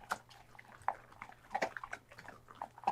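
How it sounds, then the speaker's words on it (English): Large pit bull chowing down on food, with wet chomps and bites coming in an irregular close run of small crunches over a faint steady hum, no talking. "this dog, he's kind of chowing down"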